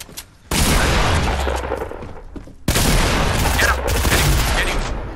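Rapid explosive gunfire and booming rocket blasts from a Fortnite match, fired at close range, arriving in two loud, sustained bursts separated by a brief dip.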